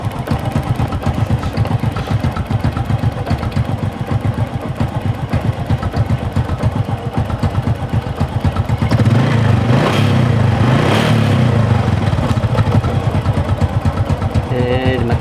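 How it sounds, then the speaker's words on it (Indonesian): A Honda Supra motorcycle engine idles nearby with a steady, rapid putter, briefly rising in loudness partway through, while a person talks over it at times. "Suara mesinnya ya."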